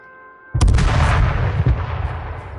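A single sharp sniper rifle shot in the H1Z1 video game cracks out loud and close, followed by a long rumbling tail that fades slowly.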